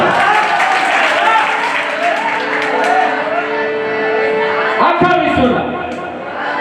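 An audience at a comedy performance during a temple festival bursts into loud, sustained clapping and cheering that fills the whole stretch, mixed with shouts and an amplified voice speaking over it.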